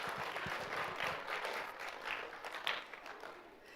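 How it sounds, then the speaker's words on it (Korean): An audience at a school graduation and orientation ceremony claps in a dense burst that fades toward the end, heard at moderate volume. "우리 감사하는 마음을 담아 크게 박수 부탁드립니다"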